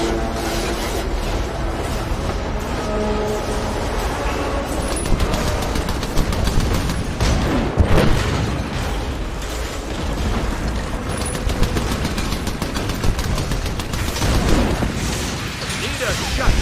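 Dense, continuous battle noise from the mech game Iron Brigade, with rapid bursts of gunfire and booming impacts blended with mechanical clatter, loud throughout with speech mixed in.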